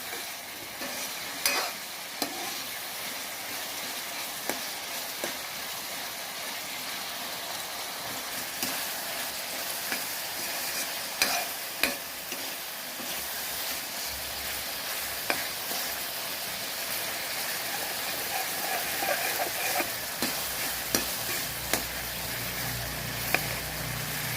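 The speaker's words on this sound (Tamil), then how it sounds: "தக்காளி நல்லா குழஞ்சி பேஸ்ட் மாதிரி வர வரைக்கும் நல்லா வதக்கணும்" Tomatoes sauté in a pan for a fish curry, giving a soft, steady sizzle with occasional stirring scrapes and clicks, moderately quiet and close, with no talking.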